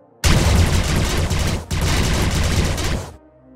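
Rapid blaster pistol fire in Star Wars: The Old Republic: a loud, dense stream of shots lasting about three seconds with one short break midway, then stopping abruptly.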